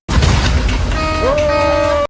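A car horn blares near and loud in a long sustained honk on a cattle ranch, starting after a burst of noise and continuing to the end.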